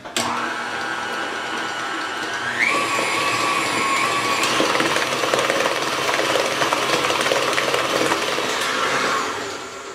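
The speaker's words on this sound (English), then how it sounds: "Now I beat my butter on high" An electric mixer beats butter on high speed for American buttercream, a loud, continuous whirring drone that steps up in pitch partway through and then runs steadily before winding down at the end.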